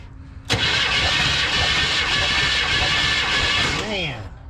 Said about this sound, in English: All right, Trey, let's bump it over and see what number one's got for us.